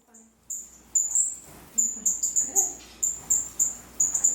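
Small birds in an aviary chirp in quick, repeated high-pitched bursts, fairly close and lively, with brief faint voice sounds between the calls.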